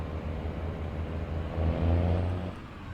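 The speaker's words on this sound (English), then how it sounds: "I love how Caterpillar engines sound, especially these old mechanical ones" A Caterpillar 3406E diesel in a 650-horsepower logging truck pulls away with a steady low rumble that swells in the middle as it gains load, then eases slightly, heard from inside the cab.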